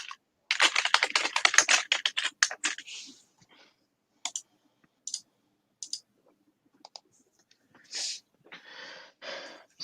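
Angry typing clatters on a computer keyboard in fast, hard bursts of keystrokes, loud and close at first, then trailing into scattered short clusters of clicks separated by pauses.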